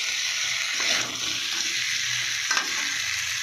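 Masala sautés in a pan with a soft, steady sizzle, broken by a couple of brief scraping stirs, fairly quiet and with no voices.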